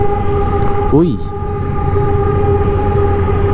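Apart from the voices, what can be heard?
train passing by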